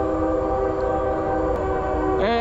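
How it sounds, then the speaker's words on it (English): A passing train sounds a steady, chord-like horn, loud and sustained, with a brief rising tone near the end. "Excuse the train."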